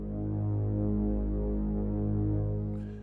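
Omnisphere synth preset sounding through a standard filter with its cutoff set by hand and the filter envelope switched off, giving a steady, loud, low droning tone with a slow throbbing swell that holds for the whole stretch.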